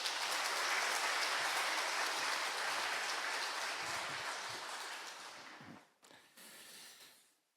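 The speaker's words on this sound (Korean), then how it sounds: "목사님 나오실 때 박수로 환영해 주시길 바랍니다" A church congregation claps to welcome the pastor to the pulpit, a full, dense round of applause that holds steady and then tapers off, with a brief final burst before fading out.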